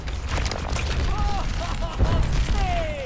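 Rapid bursts of gunfire and booms crackle through a noisy Overwatch competitive match soundscape, with a voice speaking briefly in Italian over the shooting.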